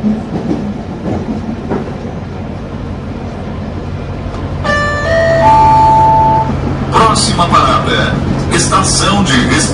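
A simulated EFVM passenger train runs in the MSTS train simulator game, with a continuous loud rumble and rhythmic rail clatter, joined midway by brief tonal signal chimes and later by louder bursts of noise.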